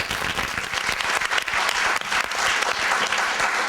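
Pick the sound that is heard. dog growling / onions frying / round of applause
round of applause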